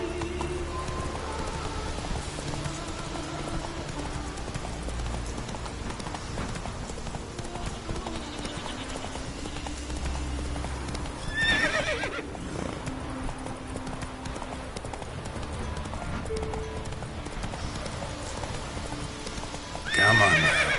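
A horse in a video game gallops with a steady, continuous clatter of hooves, and loud neighs and whinnies break in twice, near the middle and again at the end.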